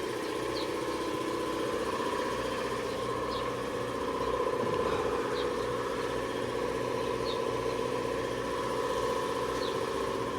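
An air compressor runs in a workshop during a DIY brake repair, a steady mid-pitched mechanical drone with faint chirps over it and no talking.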